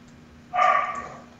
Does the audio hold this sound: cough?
no